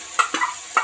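Ginger-garlic paste sizzling and being stirred in hot cooking oil, a few short, close scraping sizzles in quick succession.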